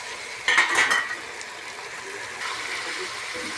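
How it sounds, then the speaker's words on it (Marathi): Mixed vegetables such as potato, green beans, peas, cauliflower and capsicum sautéing in a pan for veg pulao, a steady close sizzle with a burst of spoon stirring and scraping near the start. "भाज्या मस्त परतून घेऊ आपण"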